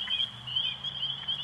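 Early-spring wood frogs calling in Michigan, a dense chorus of clucking croaks with steady high trilling throughout, fairly close and continuous with no talk.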